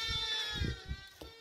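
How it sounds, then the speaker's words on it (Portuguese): Young ewe lamb on a farm bleating in several short, fairly close calls, with a steady background tone beneath them. "Essa aqui é a borrega. É filha daquela ovelha lá."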